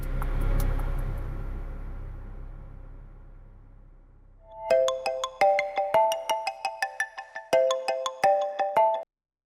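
An outgoing phone call rings in a steady repeating pattern of bright electronic tones after a fading low rumble, fairly quiet and alone.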